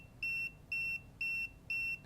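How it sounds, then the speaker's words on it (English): A LeakSMART water leak sensor sounding its alarm: four evenly spaced, steady electronic beeps, each about a quarter second long, clear and alone over a faint background hum. "Your sensor will beep until the leak has been fixed."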